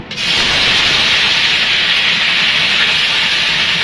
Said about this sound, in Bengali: তেলটা গরম হয়ে গেছে, পেঁয়াজ রসুন আর আদা বাটা আমি দিয়ে দেবো।